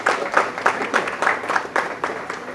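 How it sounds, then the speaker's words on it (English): An audience at Lamakaan applauds at the close of an event about the Lok Sabha elections, a smaller group clapping in a loosely pulsing rhythm, moderately loud and fairly close. "A big round of applause, please, everyone."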